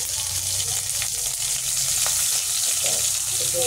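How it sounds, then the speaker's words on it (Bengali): Green chilies, nigella seeds and cumin seeds sizzle in hot oil for a Bengali chitol fish curry, a loud, steady frying crackle that holds unbroken throughout with no talk. "কাঁচা লঙ্কা, কালো জিরে, এমনি একটু জিরে ফোড়ন দিলাম"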